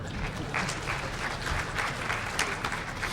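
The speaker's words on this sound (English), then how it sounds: "So I think that also probably deserves a round of applause." A conference audience applauds a talk, with steady, dense clapping from a large crowd that carries on evenly at moderate distance for a few seconds.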